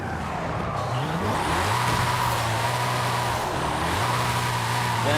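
A Hennessey Venom F5 hypercar in Forza Horizon 5 revs hard during a drift, its engine note rising and holding in steady sustained pulls with tire skid noise mixed in, loud and continuous throughout.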